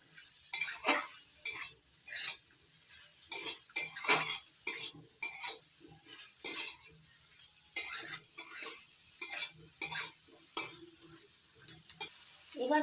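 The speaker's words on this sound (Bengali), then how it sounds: "ভালো করে নাড়াচাড়া করে ভেজে নিতে হবে সব কিছু একসঙ্গে।" Green chillies and vegetables being stir-fried in a pan: repeated scraping and clinking of a utensil against the pan in irregular bursts over a faint sizzle, close and fairly quiet, no talking.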